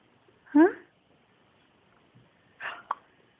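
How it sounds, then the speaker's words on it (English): A six-day-old newborn baby hiccups twice, the two soft, abrupt hiccups separated by about two seconds of near silence, heard close up in a quiet room. "You've got some hiccups, haven't you?"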